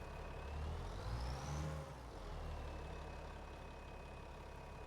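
An articulated tractor engine in a farming simulator drones at low revs, swelling briefly louder as it works and then settling back to a steady idle-like rumble, with no voices.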